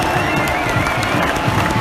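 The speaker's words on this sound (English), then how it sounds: "Let's give him a round of applause." A stadium crowd at a Socceroos football match applauds and cheers as number 22, Robbie Cruz, is substituted off. The roar is loud, dense and unbroken throughout, with no voices standing out above it.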